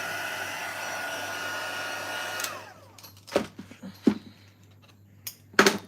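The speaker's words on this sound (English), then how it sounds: "if you've done watercolouring or if you're heat embossing on vellum." A heat embossing tool blows hot air over vellum in a steady, loud whoosh for about two and a half seconds, then cuts off, leaving a few scattered soft knocks and handling sounds.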